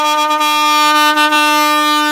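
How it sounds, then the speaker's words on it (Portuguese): A loud, sustained marine air horn fitted to a car blares with a rich, harmonic tone, nearly constant for two seconds with slight flutters, on a street in São Paulo. "É uma buzina bruta mesmo"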